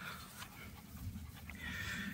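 A German shorthaired pointer panting softly, a quick rhythmic breathy huff repeating close by but faint, with no talking.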